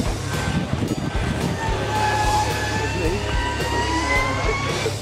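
Electric racing motorcycles at the Isle of Man TT produce a rising, whining electric motor tone over roadside noise, with a commentator talking throughout.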